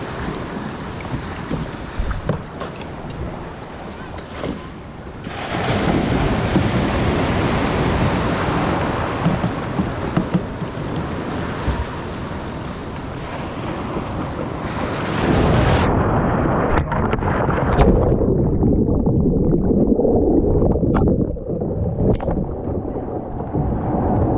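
Ocean surf along the shoreline while paddling out past the breakers, a loud continuous wash of breaking waves mixed with heavy wind buffeting the microphone, with no voices.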